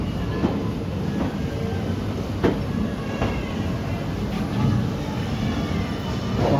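A passenger special train rolls slowly into the platform at Ajmer, a steady low rumble of railcars with a few faint wheel clicks, heard from aboard the train with no talking.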